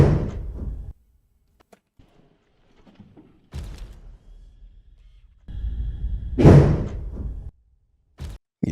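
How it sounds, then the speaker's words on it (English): A heavy door slams hard with a deep, booming thud, close and loud, amid other dull bumps and door thumps separated by near silence. "Yeah, that's a heavy slam right there."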